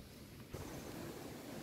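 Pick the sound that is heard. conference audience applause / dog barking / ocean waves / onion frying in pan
ocean waves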